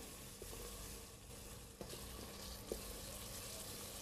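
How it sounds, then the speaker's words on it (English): Tomato sauce with ginger nibs in a pan gives a faint, low, continuous sizzle, with a few soft knocks as it is stirred. "Give it a bit of a stir."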